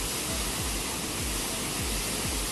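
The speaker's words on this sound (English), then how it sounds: "It's quite strong, the waterfalls." The Bärglistüber Waterfalls at Linthal, Glarus Süd, Switzerland, pour with a strong, constant roar of crashing water, loud and close, a dense unbroken rush with no voices over it.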